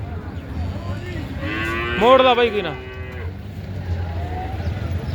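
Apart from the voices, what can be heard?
buffalo mooing at cattle market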